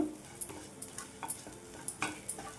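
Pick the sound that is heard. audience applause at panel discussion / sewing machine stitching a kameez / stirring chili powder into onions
stirring chili powder into onions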